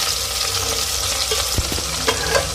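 Cumin seeds and whole chillies sizzling and crackling in hot oil, a steady loud fry with a few stirring scrapes and pops, no voices.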